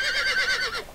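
A horse whinnies in the Star Stable Online video game, one clear wavering neigh that lasts about a second and sounds close and fairly loud.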